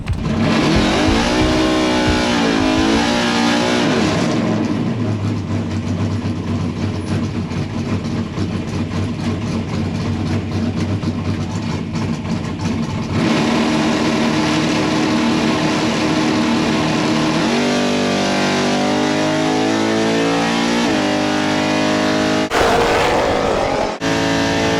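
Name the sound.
race car engine revving on track during shakedown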